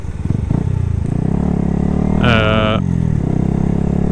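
A 2017 Yamaha YZF R125 motorcycle rides through city traffic, its engine a steady close drone with a short rising rev in the middle, with no talk over it.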